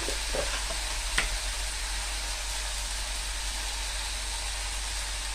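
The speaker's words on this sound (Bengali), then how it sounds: "মশলাগুলো ভালো করে ভাজবো" Spices frying in a pan for a Bengali evening snack of chop and muri, a steady soft sizzle running throughout at moderate level with a few faint clinks of stirring near the start.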